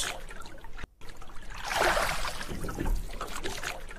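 A boat moves through water in the Sundarbans mangrove forest, giving a steady wash and trickle of water, with a brief dropout near the start and then a swell of splashing.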